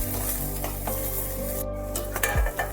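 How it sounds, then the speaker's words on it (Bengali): Eggplant frying in a pan gives a steady, close sizzle, broken by stirring scrapes and a few clinks of utensil against metal, with no voices. "এদিকে বেগুনটাও কিন্তু ভাজা হয়ে গেছে"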